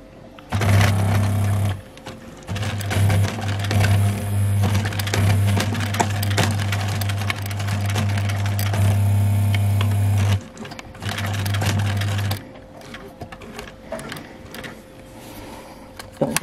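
A sewing machine stitches a fabric face mask in bursts, its loud, steady whirring running for several seconds, pausing briefly, then resuming before stopping, close by.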